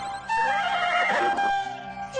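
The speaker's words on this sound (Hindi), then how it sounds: "मेरा घोड़ा, मेरा प्यारा घोड़ा" A horse whinnies loudly and close by, one drawn-out call of about a second and a half that rises and then fades, with no talk over it.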